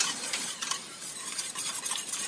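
Caramel cream cooking in a pot while being stirred, a steady close scraping and soft bubbling sizzle that continues without pause.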